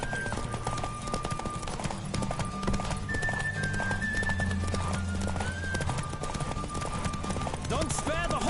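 A horse in The Witcher 3 gallops with rapid, rhythmic hoofbeats close by, under music and game voices, with a neigh near the end.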